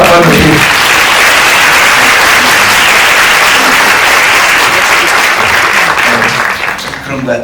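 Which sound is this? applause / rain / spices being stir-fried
applause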